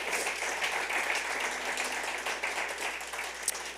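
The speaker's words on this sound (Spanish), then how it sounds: "denle un aplauso al Señor en lo que abro mi Biblia" Church congregation clapping together during a service, a dense, steady roar of applause that holds evenly throughout with no voices standing out.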